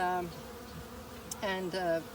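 Honey bees flying around a hive entrance, a steady buzzing drone close by with one or two louder individual bees passing near around the middle and end.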